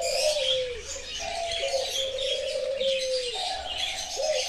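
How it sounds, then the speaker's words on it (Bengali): A pair of silkie chickens gives repeated drawn-out tonal calls, several sliding downward in pitch, spaced at irregular intervals over a soft background hiss. "এখানে দেখতে পাচ্ছেন একজোড়া সিল্কি,"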